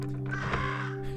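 A bird in the Monument Valley video game gives a single drawn-out caw over a soft tonal game backdrop, ending in a short bump of sound.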